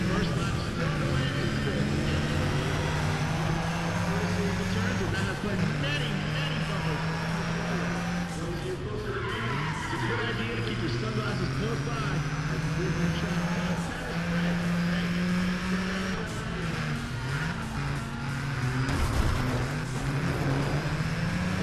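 Race car engine droning loudly through gear changes while driving on dirt in NFS ProStreet, a steady video-game motor roar with shifting pitch, while someone talks over it.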